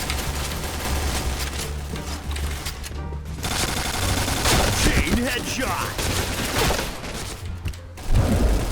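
Point Blank game gunfire, sustained loud bursts of shots and booms packed closely together, with short breaks and a heavy impact near the end.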